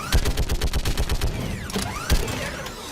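Rapid gunfire bursts in the Mass Effect 3 video game, a quick run of sharp shots through the first second and a half, then a lone crack, with mechanical clanks and whooshing effects around them.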